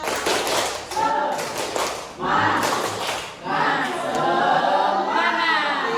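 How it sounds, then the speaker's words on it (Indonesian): A group of teachers does tepuk semangat, a rhythmic spirit clap in quick patterned bursts. Voices chant and talk along with the clapping throughout. "Kita mau tepuk semangat terlebih dahulu."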